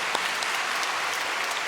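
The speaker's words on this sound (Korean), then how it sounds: "우리 다시 한번 뜨거운 박수 하겠습니다" A church congregation gives a warm round of applause, many hands clapping loudly and continuously in a large room, steady from start to finish.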